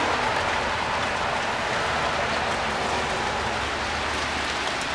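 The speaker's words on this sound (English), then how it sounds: "that's when it starts to hail" Hail falling steadily outdoors, a dense, continuous patter of many small impacts that sounds close and fairly loud, with no voices.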